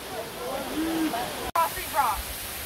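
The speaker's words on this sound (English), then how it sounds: "There's the waterfall" Steady rushing water noise, like a waterfall at a distance, with people chatting over it and a brief dropout midway.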